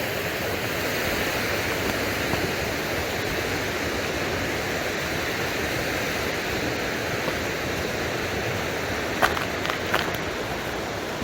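A swollen river rushes in a constant, full roar, heard from a short distance below a footbridge, with no voices over it.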